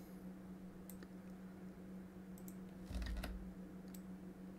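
Computer keyboard shortcut presses and mouse clicks while digitizing an embroidery run stitch in Hatch software, a few soft scattered taps over a steady hum, with one slightly louder burst near the middle.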